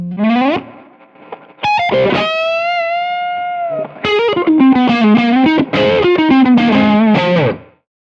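A D'Angelico Deluxe Bedford SH electric guitar plays with a distorted tone, a loud, close lick of bent notes, a sustained held note, then a quick run of choppy phrases before stopping.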